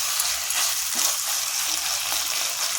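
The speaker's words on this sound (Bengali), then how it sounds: "আর 2-1 মিনিট এখানে এরমভাবে নাড়বো যাতে আমার এই একটু রস না থাকে আর কি" Kochu shak (taro leaves) with coconut sizzles steadily in a pan while being stirred, a continuous close frying hiss with soft scraping and no talk.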